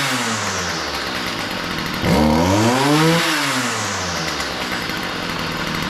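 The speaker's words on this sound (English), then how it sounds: "Now it idles good." Close by, a small Stihl FS 38 string trimmer engine runs after a carburetor rebuild, holding a steady buzzing idle before a quick rev rises and falls back to idle, loud, with no talk.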